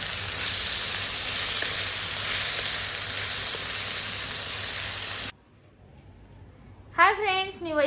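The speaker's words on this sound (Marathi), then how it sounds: "त्याच्यामध्ये मग पडवा टाकून वाफेवरती शिजवायचे आहे आपल्याला" Padwal (snake gourd) and chana dal steaming in a covered pot, a steady loud hiss and sizzle lasting several seconds, then cutting off abruptly into quiet before a voice begins talking.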